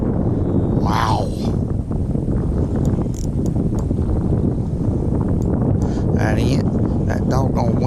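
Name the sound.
wind blowing on the lake while fishing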